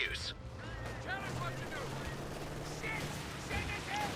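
Infantry gunfire rattles in a Company of Heroes 2 multiplayer match with Land Mattress rocket launchers firing, a dense, continuous stream of battle noise under a caster's talk.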